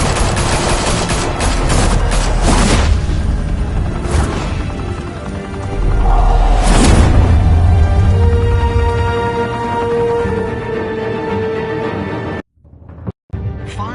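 Heavy gunfire and blasts in a Telltale Batman game scene, dense rapid bursts and booming explosions filling the clip loudly with rumbling low end, cutting abruptly to near silence near the end.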